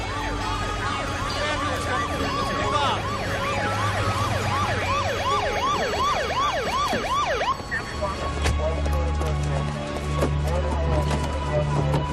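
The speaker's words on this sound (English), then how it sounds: "the ambulance is here" A wailing ambulance siren rises and falls repeatedly over steady low engine rumble, then fades into idling traffic noise.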